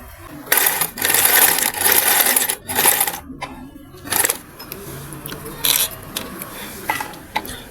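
A sewing machine running loose, free stitches on African wax print fabric for a bubu's front slit: loud close bursts of rapid mechanical whirring in short runs, separated by brief pauses and clicks.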